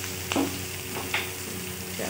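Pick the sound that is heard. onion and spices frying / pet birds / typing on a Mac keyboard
onion and spices frying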